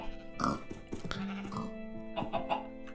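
Sheep bleating in Minecraft on a pasture shared with cows and chickens, a few nasal, wavering bleats close by, clear and alone with no talk.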